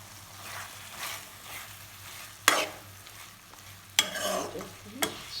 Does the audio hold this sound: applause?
no